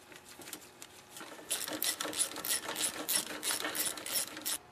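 Ratchet tightening 10 mm bolts on an ATV guard during front wheel bearing work, a steady run of rapid clicking close up with no speech.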